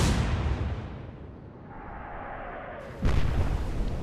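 A naval ship's gun salvo booms in the Atlantic Fleet game: a heavy blast decays into a long rumbling roar, then a second loud report cracks in near the end, with no voices over it.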